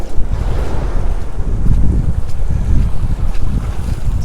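Icy water and waves surge close by in a loud, continuous wash mixed with heavy wind buffeting the microphone, with no voices.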